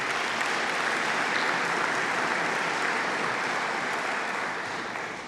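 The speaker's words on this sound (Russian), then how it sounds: "Аплодисменты." Dense, steady applause from a large audience in a hall at a formal state address, loud and continuous throughout before easing slightly at the end.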